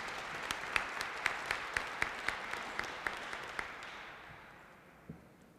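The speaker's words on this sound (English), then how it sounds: "Would you all give them a round of applause?" Audience at a Black History Month opening ceremony applauds, a steady wash of clapping with a few sharper nearby claps, fading away over the last seconds to near quiet.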